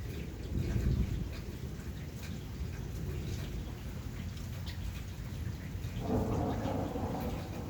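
Light evening rain patters steadily while low thunder rumbles swell twice, near the start and again toward the end, a soft, continuous outdoor storm ambience without talk.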